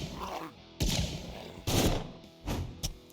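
Several separate weapon shots in Quasimorph, about four punchy bursts spaced irregularly, each with a bright crack and short ringing tail, fairly close and loud.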